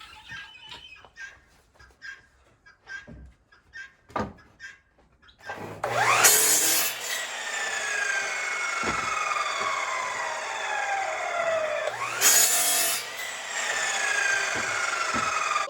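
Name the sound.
cutting wood strips for raised garden beds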